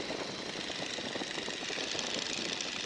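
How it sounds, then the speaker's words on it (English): A 1942 Stearman biplane's radial engine rumbles steadily in flight with the power eased back, a loud, dense, even drone heard from inside the open cockpit, no voices. "Get rid of some of the engine sound,"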